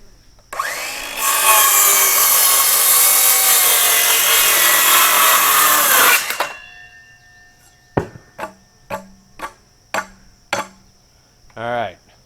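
A power saw with its blade lowered cuts wood for a cabin front porch: a loud, close whining cut lasting several seconds. After it stops come a series of short, sharp knocks and clicks.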